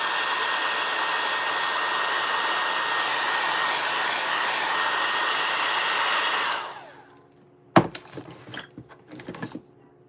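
A hair dryer blasts steadily for about six seconds, drying freshly painted small wooden Easter craft sign pieces, then shuts off and winds down, followed by a few sharp clatters and knocks of the wooden pieces being handled.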